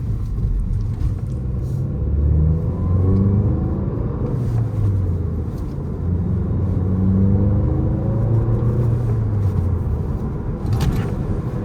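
A Volkswagen GTI with a six-speed manual gearbox accelerates, its engine note rising and falling in smooth sweeps over a steady cabin rumble, recorded from inside with no one talking.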